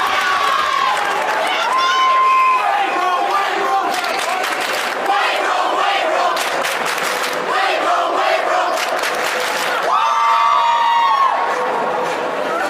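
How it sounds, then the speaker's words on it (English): Crowd at a Minnesota high school ice hockey section playoff roars and shouts after a body check, a loud sustained cheer that swells and falls across the arena with excited voices throughout. "He takes a hit from Destasio as the crowd runs for that hit."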